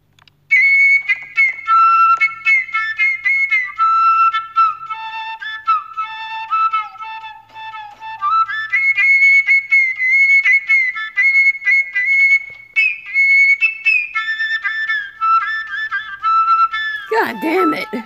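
A long, lively whistled melody in a video game, high, clear notes with short pauses between phrases, ending in a sudden noisy burst.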